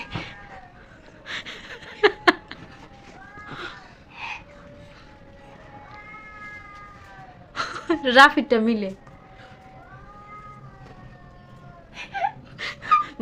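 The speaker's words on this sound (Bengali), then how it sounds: "এই দেখেন গাইজ বিড়ালে বাইরে শব্দ করে" Cats yowling and fighting outside at night: drawn-out, wavering moans rise and fall a few times at moderate distance, mixed with a person talking indoors.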